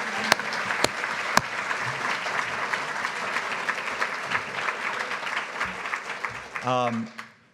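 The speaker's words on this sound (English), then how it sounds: "we really should have a big round of applause for Caroline, Nancy, and the whole PDSA staff" Audience applause at a 2019 PDSA patient meeting, steady crowd clapping with a few sharp close claps early on and a voice breaking in near the end as it fades.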